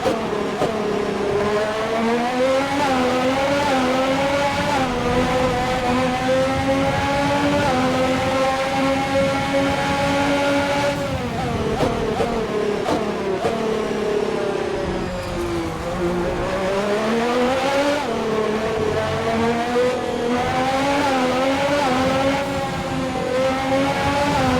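Formula 1 race cars in a racing video game on the final lap, high-pitched engines screaming and rising through gear changes, with shifts, brief lifts and revs back up, loud and continuous without talk.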